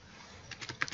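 Quiet, close typing on a computer keyboard, a short run of soft clicks over faint room hiss.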